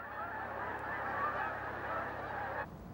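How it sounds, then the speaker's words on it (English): A flock of geese honks loudly and continuously for a few seconds, a dense chorus of calls that stops abruptly near the end. "She has to be here, you see, so that she can talk to the geese."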